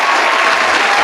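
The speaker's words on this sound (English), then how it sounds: "let's just pause and give her a round of applause" Loud, dense applause fills the short stretch as people clap steadily for a newly chosen governor.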